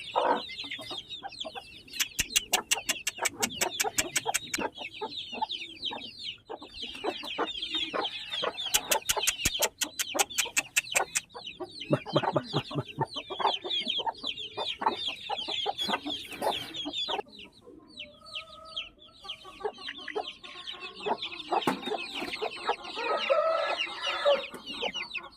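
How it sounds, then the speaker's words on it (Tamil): A mother hen with two-month-old chicks clucking and peeping, mixed with occasional rooster crowing and bursts of rapid clucking, near and lively throughout a farmyard setting. "இதுதான் பொட்டை தாய்க்கோழி."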